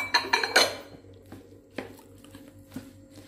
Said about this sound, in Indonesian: Lalu kita aduk hingga merata.